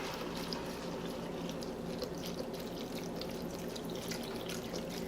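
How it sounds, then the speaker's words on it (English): Vegetable broth pours steadily from a 32-ounce box into a soup pot of kale, potatoes, carrots and leeks, a soft continuous trickle and splash with no pauses. "Now I'm going to add 4 cups or 1 32-ounce box of vegetable broth."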